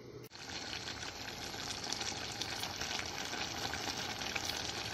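Ingredients for red lentil soup fry in a pan with a dense, continuous sizzle, steady and close, after a brief clatter at the start.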